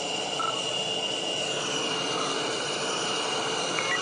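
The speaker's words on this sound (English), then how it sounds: "Taxiing over to my little slot on the aircraft carrier." Jet aircraft taxiing on an aircraft carrier deck, a steady broadband engine roar and whine that holds evenly throughout with no talk.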